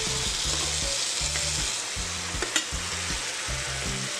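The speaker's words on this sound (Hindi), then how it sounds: "इसी स्टेज में हमने जो है अपने बैंगन जो हमने फ्राई किए थे वो इसमें डाल देंगे।" Fried eggplant sizzles in hot ghee in a pan for a Kashmiri khatte baingan, a constant close crackle with rhythmic scraping strokes of a spoon stirring through the pieces.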